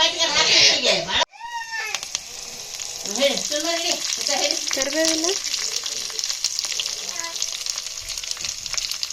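Curry leaves, cumin and chillies sizzle and crackle in hot oil as a tempering for chutney, a steady close frying hiss with a voice talking over it.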